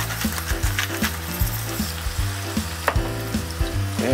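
Garlic fries in olive oil in a pan before hen of the woods mushrooms go on top, a close, continuous crackling sizzle over a steady low hum, with a soft, regular pulsing roughly every half second and no talking.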